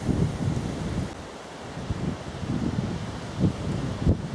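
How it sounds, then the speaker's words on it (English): Wind picking up on an open countryside walk in the North Downs near wheat fields, a steady gusty rush buffeting the microphone with a few stronger surges. "as the wind picks up now"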